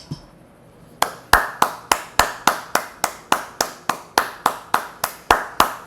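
A single person claps hands in a steady, even rhythm, about fifteen crisp, close claps after a brief quiet start.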